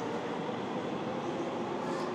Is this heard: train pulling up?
yes